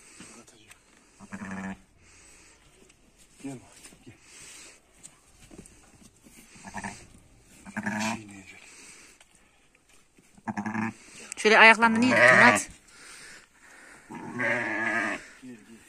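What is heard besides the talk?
newborn lamb bleating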